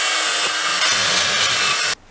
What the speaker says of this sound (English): using a foot-long 1/4-inch drill bit, I'm poking the first hole and I'm trying to drill a second one as straight as possible